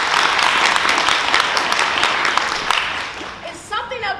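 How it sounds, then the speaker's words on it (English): Audience applause at a youth theater performance of adolescent skits, steady dense clapping that fills the room and fades slightly toward the end as a voice begins to speak. "Let's give her a round of applause."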